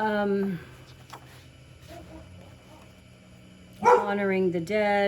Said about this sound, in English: that was my dog. He's barking at other dogs.